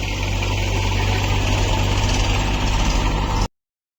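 A farm tractor engine runs with its accelerator pressed fully down, a loud, constant droning rumble that holds steady for about three and a half seconds and then cuts off abruptly, with no voices.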